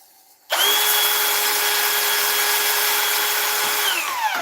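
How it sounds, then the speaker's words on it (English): Ash wood being sanded on a fast-spinning woodturning lathe gives a loud, steady whine with a hard onset, holding level for about three and a half seconds before it starts to wind down. "I'm sanding too fast."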